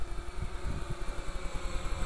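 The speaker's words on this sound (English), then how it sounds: "Just give it a bit of throttle." A GPS-equipped drone flying in moderate wind has its motors throttled up, giving a steady high-pitched motor whine with a rapid pulsing rhythm, fairly near and continuous.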